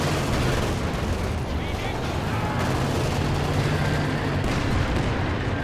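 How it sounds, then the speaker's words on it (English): Artillery barrage in the Company of Heroes 2 strategy game: dense, continuous rumble of distant shelling and gunfire, loud throughout with no clear gaps, with speech mixed in. "Not sure where that barrage is going exactly."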